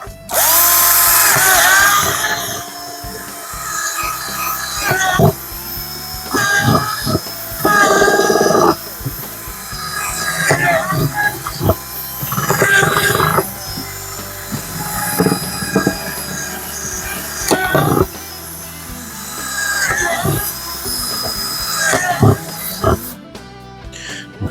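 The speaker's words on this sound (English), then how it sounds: "I'm just going to drill a few more in." A power drill bores extra drainage holes into the bottom of a plant pot, giving loud, high, screeching whines in repeated bursts with short pauses between. Brief talk is mixed in.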